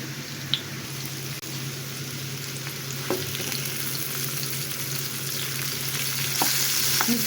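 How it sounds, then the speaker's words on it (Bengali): Pumpkin pieces fry in a pan over medium heat, giving off a steady close sizzle broken by a few sharp taps and clinks as they are turned. "ঢাকনাটা দিয়ে ঢেকে চুলের আঁচটা মিডিয়ামে রেখে আমি মিষ্টি কুমড়াটা ভেজে নিচ্ছি মিষ্টি কুমড়াটা আমি এখানে উল্টিয়ে নিচ্ছি"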